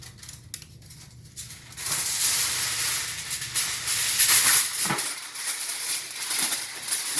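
Aluminium foil crinkles and rustles as it is handled and tucked over a roasted lamb in a home kitchen, a soft start giving way to sustained crackling that carries on alone.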